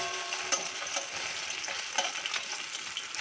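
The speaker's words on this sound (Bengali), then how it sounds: "আমি উল্টো পিট ভেজে নেব। উল্টিয়ে দিলাম মাছগুলোকে।" Small puti fish fry in a pan with a steady soft sizzle, punctuated by light scraping and stirring taps as the pieces are turned over; no voices, fairly close and moderately quiet.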